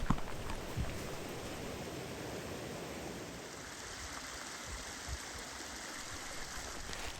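A Smoky Mountains stream flows steadily on a snowy day, a continuous rushing and trickling of water heard nearby, even and moderately quiet with no talking.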